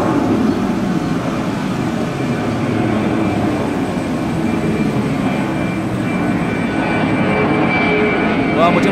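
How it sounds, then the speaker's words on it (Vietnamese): Vietnam Airlines Airbus A321 jet engines during a go-around at Da Nang airport in bad weather, a steady broad roar that holds loud throughout, with someone talking over it. "mình nghe thấy có tiếng động cơ máy bay ngày càng lớn dần"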